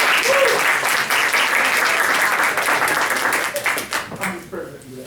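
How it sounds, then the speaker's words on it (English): An audience at a holiday health event claps warmly, dense sustained applause that thins out and fades near the end as a voice begins to speak. "can we just clap again for him?"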